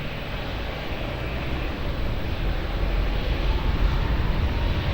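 An airplane at Lisbon Airport, a broad steady jet roar that swells gradually, heard from a distance with no voices.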